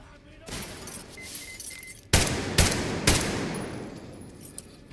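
Gunfire from a weapon in Metro Exodus, a rattling burst followed by three loud, sharp separate shots, close and punchy, with someone speaking around them.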